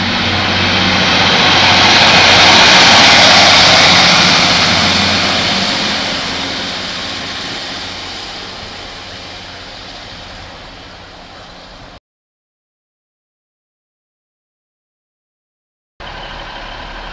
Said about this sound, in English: We've got 153309 now, departing from Ipswich, working the 1558 service to Felixstowe.